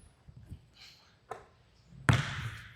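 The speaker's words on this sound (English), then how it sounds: "that like beefy bounce sound of the basketball" A basketball bounces a few times, heard close and dry through a microphone with noise canceling switched on, with a soft early thud, a sharper tap, then one heavy, isolated bounce.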